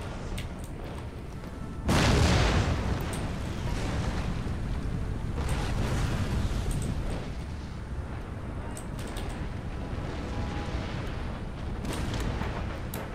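Hand mortar fire in the Empire: Total War video game, Russian army battle: a loud deep boom at about two seconds, then a rolling, rumbling barrage of softer distant blasts and pops continuing underneath.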